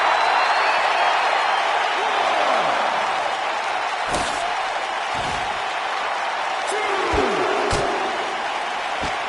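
A raucous arena crowd at a Philadelphia wrestling event in a video game roars steadily as a broad wall of cheering, punctuated by sharp slams and thuds, with a commentator talking over it.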